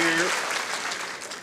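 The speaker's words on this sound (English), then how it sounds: "And we've got a big crowd responding to that ball with a cheer." A large crowd at the Ladies Singles final of the 2018 World Indoor Bowls Championships bursts into cheering and applause, a broad, loud roar that fades slightly over a second and a half.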